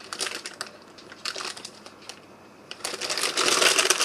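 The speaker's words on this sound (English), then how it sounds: "I'm just going to grab 3 more envelopes" Paper envelopes being picked up and handled at a craft table, with close crisp rustles and taps in scattered bursts that thicken into a denser stretch of crinkling toward the end.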